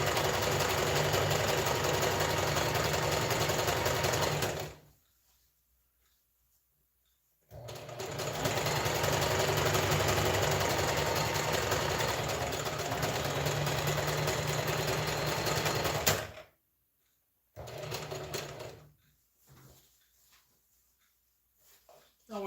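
A sewing machine runs steadily while a butterfly top is sewn, loud and continuous in two long bursts with a short pause between, then stopping with a few brief stitches near the end.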